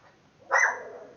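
A single sharp dog bark, close and loud, rings out once and fades quickly into silence.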